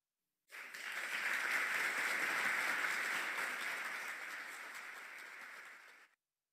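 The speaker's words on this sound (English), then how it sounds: "please join me in giving a warm round of applause" Applause welcoming a speaker at an orientation session, a soft, even patter of clapping that swells in, holds for several seconds and fades out, thin and distant as if heard through a call.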